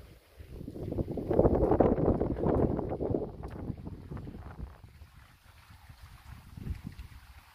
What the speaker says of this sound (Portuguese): Já podemos ouvir o barulho da água aqui,